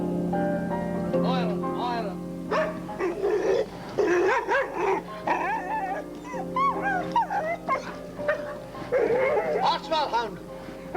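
A dog barks, growls and whimpers in short, close, irregular bursts, mixed with people talking.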